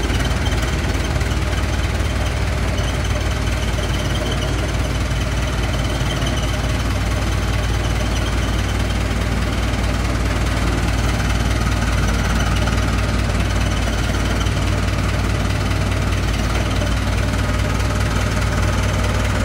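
A Kubota M6950DT four-wheel-drive tractor with a 69-horsepower four-cylinder diesel sits idling close by, a loud, even, continuous rumble with a steady knocking pulse and no pauses.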